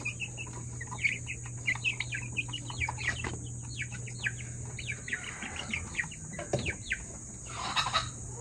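Young gold Shamo chicken, a stag, giving repeated short clucks and chirps, with a rooster-like call near the end, close by over a steady low hum.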